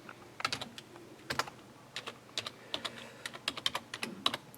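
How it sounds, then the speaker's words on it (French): AT commands tapped out on a computer keyboard, quiet and close, irregular bursts of clicking keystrokes with brief pauses between. "Alors il faut taper les commandes que vous avez dans la doc aussi."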